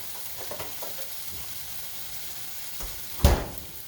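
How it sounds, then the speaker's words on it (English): Butter hitting a hot pan with fried apples, giving a steady soft sizzle with a few stirring clicks and a sharper louder crackle near the end, no voices. "I'm going to add some more butter."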